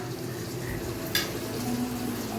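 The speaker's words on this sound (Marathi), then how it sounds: "हे मम्मा मिक्स करते असं येल्लो येल्लो रेड रेड." Masala curry being stirred in a pan, a steady close sizzle with a brief scrape of the spoon midway, no voices over it.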